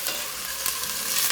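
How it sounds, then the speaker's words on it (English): Onions frying in a pan hiss steadily while a ladle stirs them, giving short scrapes and clatters over the close, bright sizzle. "I'm just going to get a little ladle to stir this."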